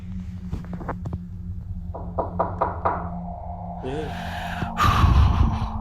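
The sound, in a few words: knocking in a house, from a ghost video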